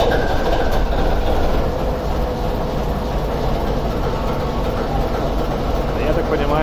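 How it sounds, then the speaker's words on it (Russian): A warmed-up ChME3 diesel shunting locomotive runs, its engine a steady loud low rumble with mechanical clatter, while a person talks over it. "Мы сегодня запускаем тепловоз ЧМ-3. Дизель уже, правда, прогретый."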